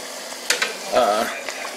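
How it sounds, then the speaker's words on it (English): Tortilla pieces deep frying in hot oil, a steady close sizzle and crackle with a few sharp pops and a brief burst of bubbling. "This here, you deep fry it."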